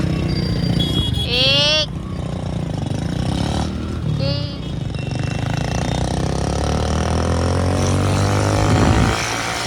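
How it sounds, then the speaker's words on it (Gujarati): An old Royal Enfield Bullet motorcycle engine runs with a steady, low, throbbing thump that continues throughout. High chirping sounds and a brief voice are heard over it. "જૂના જમાનાનું બુલેટ ઠકડાનું એન્જિન"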